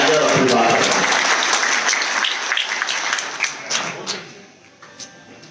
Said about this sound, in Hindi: एक बार जोरदार तालियों से संदीप पाठक जी का अभिनंदन